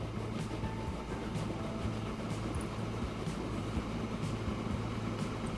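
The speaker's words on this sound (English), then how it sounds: "another train has just arrived" Train arriving at a station in the rail simulation game Transport Fever 2 makes a steady low rumble and mechanical hum with faint intermittent clicks and squeals over a constant background drone, with no talk.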